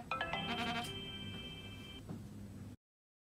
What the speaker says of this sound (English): the vibration is a little bit awful to listen to